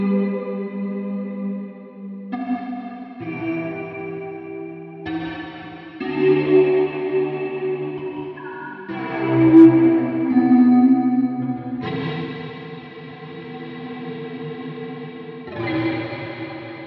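An electric guitar plays slow single notes and chords through a GFI System Specular Reverb V3 pedal at maximum modulation, giving a lush, wavering wash of reverb with pitch-wobbling chorus-like tails between each played phrase.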